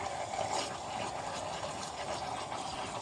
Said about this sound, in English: full flow, water heater flush going down this drain